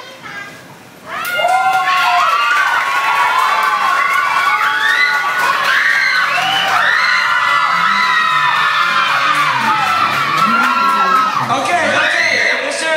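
Audience at a kids' dance contest erupts in loud, sustained cheering, with children shouting and whooping together in a dense crowd roar that starts after a brief quieter moment and holds steady to the end.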